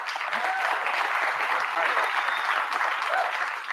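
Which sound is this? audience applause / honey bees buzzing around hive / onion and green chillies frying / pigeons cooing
audience applause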